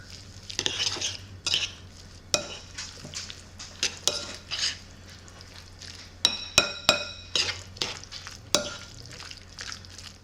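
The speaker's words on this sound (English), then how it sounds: "And I'm gonna add in just a little bit of Italian seasoning. Not a ton. And I'm gonna mix it up." Pizza roll filling being mixed in a bowl with a little Italian seasoning, a utensil clinking and scraping against the dish in irregular strokes, close by with a low steady hum underneath.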